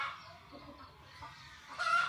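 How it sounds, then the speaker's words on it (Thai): Chickens cluck faintly around a village house, a thin, distant scatter of calls over steady background hiss that grows a little louder toward the end. "มาฟังเสียงไก่เนาะ"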